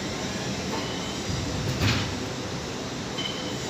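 A Class 800 train at London Paddington station rumbles steadily, with a brief swell of louder mechanical noise partway through against the continuous station hum.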